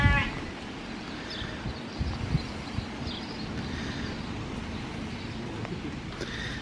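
Sheep bleat faintly in the distance against a busy outdoor background of low rumbling noise, a few scattered calls in a rural setting with livestock nearby.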